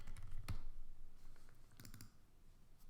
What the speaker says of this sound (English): You can type in your definition here.